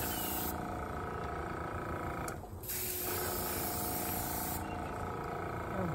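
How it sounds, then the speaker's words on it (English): Airbrush-style spray hissing steadily as it sweeps across a surface at a very low flow, near and continuous, dipping briefly once in the middle before resuming. "Just make sure it's spraying."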